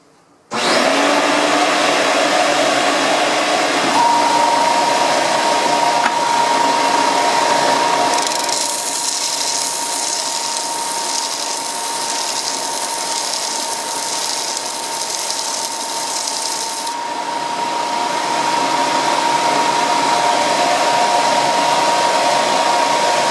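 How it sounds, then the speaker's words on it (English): A sander and a vacuum make a loud, steady motor roar without a break, with a harsher whirring layer joining partway through and then dropping away. "I'm going to put hearing protection on because the vacuum especially is loud"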